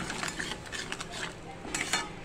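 A spoon stirs tomato puree masala in a pan for mutter paneer, faint scraping and clinking strokes in a quiet irregular rhythm, heard alone without talk.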